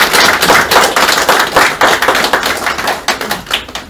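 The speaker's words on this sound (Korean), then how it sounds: "큰 경의의 박수 부탁드립니다" An indoor audience at a political party appointment ceremony applauds, a close, loud burst of rapid hand claps that fades slightly toward the end.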